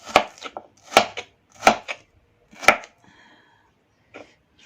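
A knife chops through watermelon rind in four crisp, close cuts at about one-second intervals, followed by quieter scraping and a faint final tap.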